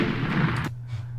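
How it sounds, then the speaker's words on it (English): A short, booming explosion sound effect from a Clickteam Fusion game hits heavily and loud, then cuts off abruptly, leaving a low hum. "that'll make an explosion sound whenever we click on them"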